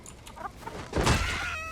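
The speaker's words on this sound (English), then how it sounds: "Am I allowed to kill chickens?" Chicken clucking in the video game Dragon's Dogma 2, a short burst of fowl calls that swells louder near the end of a brief game scene, with no talking.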